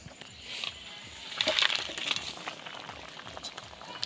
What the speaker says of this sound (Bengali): দিয়ে আর কিছুক্ষণ জাল দিয়ে নামিয়ে নেব